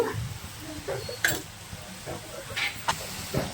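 Coriander leaves frying in oil in a pan, giving a soft steady sizzle with faint hissing bursts and light stirring clicks scattered throughout, fairly quiet and close.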